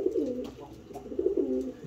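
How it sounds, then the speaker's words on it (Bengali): Several pigeons at a neglected, uncleaned loft give soft, low, repeated coos, close and steady across the short stretch with no talking. "কয়েকটা কবুতর বসে আছে শুধু।"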